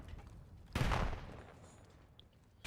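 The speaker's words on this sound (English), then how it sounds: "The shots ring out through." Gunfire in a competitive esports video game match: a sharp burst of shots breaks out, then decays into a fading tail, with another loud burst starting at the very end.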